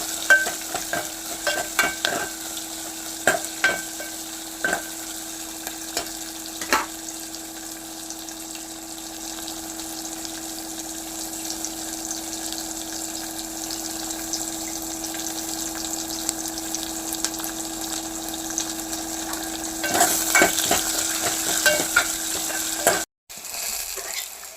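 Chopped onions stirred in a hot oiled pan while making rice pulusu, giving a steady close sizzle broken by scraping spoon strokes, thickest near the start and again toward the end, with no voices.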